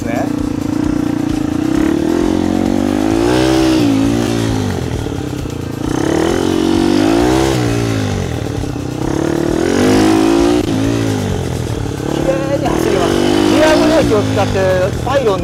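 A motorcycle ridden around pylons during rear-brake technique practice, the engine rising and falling in repeated revving surges as it brakes and accelerates through turns, loud and close, with someone talking at times.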